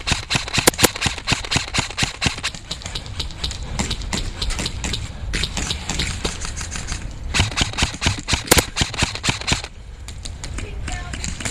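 Rapid, steady automatic fire from a Krytac LVOA-S airsoft rifle on an outdoor airsoft field, with dense mechanical clatter running almost continuously and brief pauses between bursts, fairly close.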